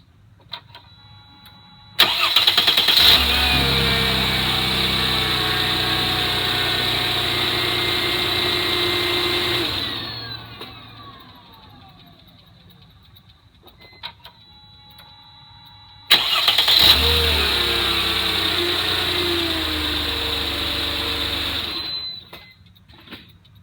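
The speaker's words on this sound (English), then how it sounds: "I'm going to walk around and see if I can't start the car." A 1999 Mercedes-Benz ML320, newly fitted with a replacement starter, cranks and fires up, then idles steadily for about eight seconds before shutting off; after a pause it starts again and idles once more, close and loud.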